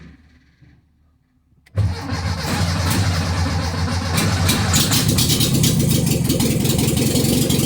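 A car with no muffler sits quiet with faint low rumbling, then cranks and fires abruptly into a loud, raw, throaty idle that keeps running, unmuffled and close.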